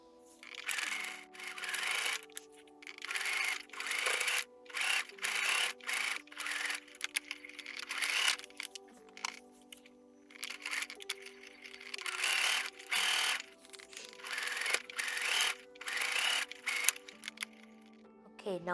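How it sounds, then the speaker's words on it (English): A sewing machine stitches a fitted bridal face mask of silk and lining in repeated bursts, running for a second or two and then pausing, close and steady with the motor whir and needle clatter. "let's head to our sewing machine now"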